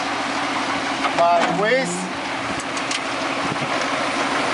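A 1998 GMC step van with a 5.7-litre V8 runs at a steady idle, a continuous low rumble that carries on throughout while someone talks briefly over it near the start.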